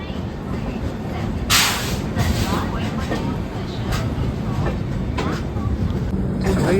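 Duronto Express train pulling out of Vijayawada station, a steady rumbling rail noise with clanks and rattles throughout, close and continuous.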